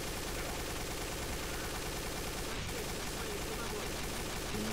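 Continuous, dense machine-gun fire from the video game Team Fortress 2, sustained at steady loudness for the whole stretch with no pauses.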